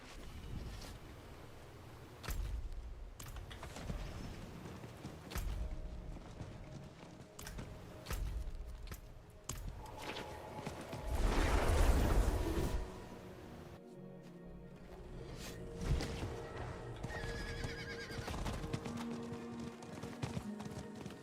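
Horse hooves clopping in Diablo 4, faint and intermittent at moderate distance, mixed with wind-like swooshes and game effects, a louder burst midway; no clear neigh stands out.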